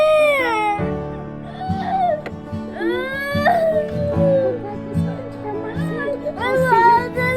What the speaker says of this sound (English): Go grab Mark's hand, puppy.